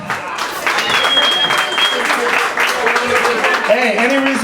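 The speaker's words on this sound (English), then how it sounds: "Un aplauso" A concert audience at a blues band's show in a Mardi Gras bar in A Coruña applauds in a dense, sustained wash of clapping with a few cheers, while a voice talks faintly over it.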